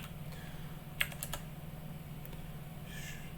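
Soft keystrokes on a computer keyboard, a few quiet clicks clustered in a short burst with a faint low hum beneath.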